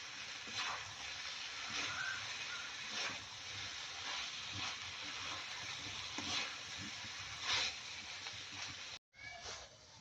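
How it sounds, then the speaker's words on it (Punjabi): Shredded cabbage being tossed with spices in a frying pan, a soft continuous sizzle and hiss with faint rhythmic stirring scrapes throughout, cut off by a brief gap near the end. "ਹੁਣ ਪਾ ਦਾਂਗੇ ਜੀ ਗੋਭੀ ਥੋੜੀ ਥੋੜੀ ਪਾ ਕੇ ਇਹਨੂੰ ਕਰ ਲੈਣਾ ਮਿਕਸ"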